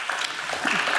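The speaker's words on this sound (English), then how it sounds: "Give them all a round of applause, please." An audience applauds the speakers at a global economic summit on transforming value chains, a steady wash of clapping filling the hall for a brief moment.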